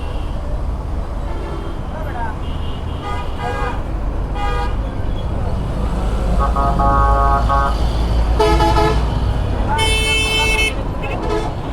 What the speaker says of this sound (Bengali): আজকে রাস্তাঘাটের মধ্যে গাড়ির চাপটা একটু বেশি অনেক গাড়ি চলাচল করতেছে